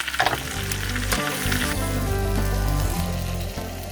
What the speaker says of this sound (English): barbecue pork grill steaks that Marilla has bought with her